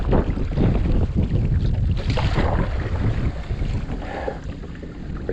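Kayak out on the Susquehanna River in strong wind, steady rushing wind buffeting the microphone with water splashing and paddling noise mixed in, continuous and close throughout.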